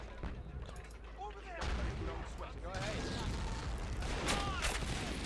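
Battle in the war game Men of War: Assault Squad 2, with repeated explosions, booms and bursts of gunfire building into dense continuous combat, while a voice talks underneath.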